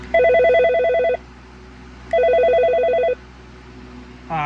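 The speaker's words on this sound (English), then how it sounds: "the Nortel ringtones are on here." A Mitel 6940 IP phone plays a Nortel-style ringtone: two loud, even bursts of warbling electronic ring about a second each, separated by a pause, with a third starting at the end.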